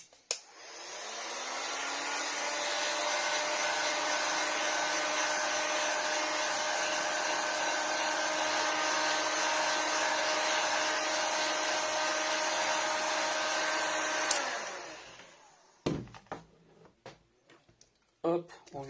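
Small heat gun warming the back of a Samsung A5 2016 phone before repair, a loud close steady blower roar with a high whine lasting about fourteen seconds, then it cuts off, leaving a few clicks and handling noises.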